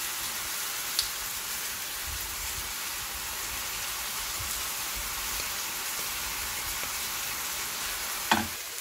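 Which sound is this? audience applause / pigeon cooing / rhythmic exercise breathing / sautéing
sautéing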